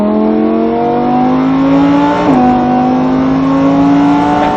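A Lamborghini Huracan accelerates at full throttle on a track, its loud engine note rising steadily with a brief dip at a gear change before climbing again, close and continuous.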